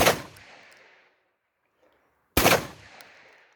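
Two loud, sharp gunshots from an Aksa Crossfire .410 shotgun about two seconds apart, each ringing out and decaying into quiet outdoors.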